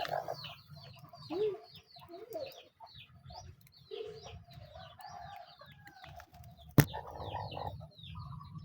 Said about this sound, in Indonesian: Oh, di sini kandang ayam lagi angrem.